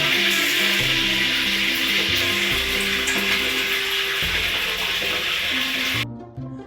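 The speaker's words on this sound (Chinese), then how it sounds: "你们听它炸的声音是很恐怖的" Pork fries in hot oil in a pot with the lid on. A loud, dense, steady sizzle hisses throughout and then cuts off sharply near the end, with a musical backing underneath.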